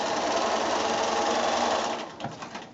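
A sewing machine stitches quilt block pieces together in a fast, steady mechanical whir that runs continuously before slowing and stopping near the end.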